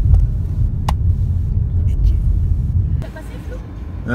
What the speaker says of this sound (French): J'ai vu une voiture, une Skoda blanche passer